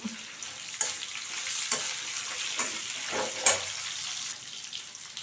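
Pirandai chutney ingredients with coriander and curry leaves sauté in a pan, a close steady sizzle broken by scraping stir strokes and a few sharp clatters, with no talking.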